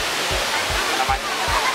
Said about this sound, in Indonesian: kita disuguhkan dengan pemandangan sangat indah di air terjun ini